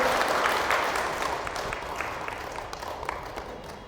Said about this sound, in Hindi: प्रभु को ताली बजाओ जोर से